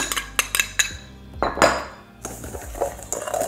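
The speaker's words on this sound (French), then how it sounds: "Je vais remuer les deux petites préparations pour n'en faire qu'une." A spoon stirs parmesan and breadcrumbs together in a bowl, making a quick run of sharp clinks and scrapes against the dish, then a short pause and a few more taps. Nobody speaks.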